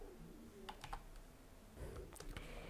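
Quiet typing on a computer keyboard: a few light, scattered key clicks in two small clusters over a low background hiss.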